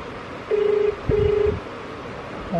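Two steady electronic phone tones sound in sequence, each about half a second, clear over a constant background hiss, as a telephone call is dialed and goes unanswered.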